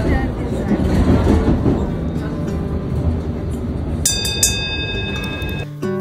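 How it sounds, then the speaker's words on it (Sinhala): Steady rumbling rolls through the carriage of a moving London Underground train, with rail clatter and a brief high squeal of wheels or brakes near the end, continuous and fairly loud. "මේක තමයි ට්‍රේන් එක ඇතුළේ."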